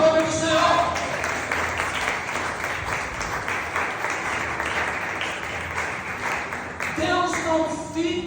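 Church congregation applauding during a sermon, a dense, sustained wash of clapping from many hands, with sung or spoken voices over it at the start and again near the end.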